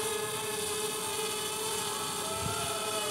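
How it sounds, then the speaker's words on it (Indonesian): A DJI Spark drone rising after take-off, a steady dense whine of small propellers with sustained tonal buzz, loud and close throughout. "Kita naikkan dulu aja drone-nya."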